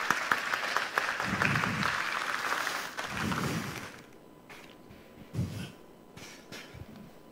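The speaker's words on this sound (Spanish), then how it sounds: "Fuertes palmas para él." Audience applause at a conference on neurodivergence and high ability in the classroom, welcoming the speaker. Steady clapping fills the first four seconds, then thins to scattered, fading claps and a few isolated bursts.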